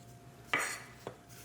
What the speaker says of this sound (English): So we're just going to continue to just chop and cut that tomato up.